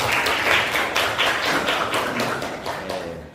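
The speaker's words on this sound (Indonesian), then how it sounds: "Tepuk tangan untuk kita semua." A classroom of students claps hands together in quick, fairly loud bursts that taper off toward the end, with no one talking over it.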